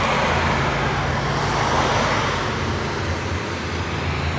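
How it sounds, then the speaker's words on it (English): A power hose blasting graffiti off a surface gives a loud, steady broadband hiss and rush that runs unbroken for the whole stretch, with no voices over it. "Hosing down some stuff."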